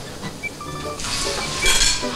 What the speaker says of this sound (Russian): И теперь мы с вами уже отправляем эту смесь всю на сковородку обратно.